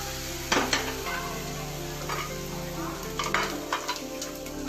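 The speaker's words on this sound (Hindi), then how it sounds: "बहुत हल्की आंच पे भूनना है इसको।" A pan on a low flame gives a soft, steady sizzle as food roasts. A utensil scrapes and knocks against the pan now and then while it is stirred.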